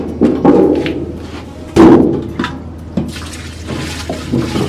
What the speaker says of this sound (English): Now we're gonna pour the ethanol.